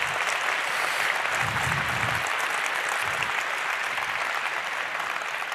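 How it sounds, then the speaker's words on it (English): A conference audience applauds steadily in a large hall, continuous dense clapping that holds its level, with a few low thumps underneath. "Applause?"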